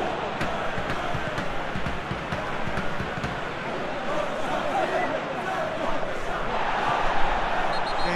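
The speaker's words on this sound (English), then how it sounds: "Crowd appreciates good football all round there." Stadium crowd applause and murmur during a PES 2021 football match between Alanyaspor and Istanbul Basaksehir, a dense continuous roar of clapping and cheering that swells slightly toward the end, with faint commentary underneath.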